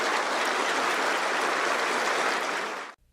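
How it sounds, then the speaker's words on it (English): Warm applause from a crowd of young participants from two countries, a dense, steady wash of clapping that fills the moment and then cuts off abruptly. "The young participants from both countries warmly applauded the important remarks delivered by the leaders of the two sides."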